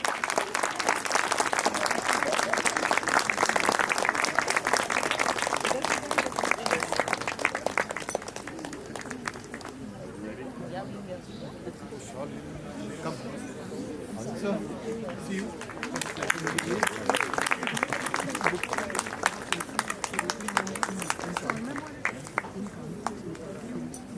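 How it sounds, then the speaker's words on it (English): An audience at a literary festival session applauds loudly for several seconds, fades into a quieter stretch of murmuring and scattered sound, then swells into a second burst of clapping before tailing off. "Can we have a huge round of applause, please?"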